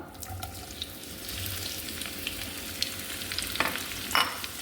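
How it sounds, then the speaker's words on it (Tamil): Four medium sliced onions fry in hot oil in a pan for a chicken gravy, giving a steady, close sizzle with light stirring throughout. "சேர்த்து நல்லா லைட் ப்ரௌன் வர்ற வரை நல்லா இதை வதக்கி விட்டுக்கிடுவோம்"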